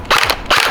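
A CP AK105 gel blaster firing two quick single shots outdoors, each a sharp, loud pop with a short bright burst, spaced about half a second apart.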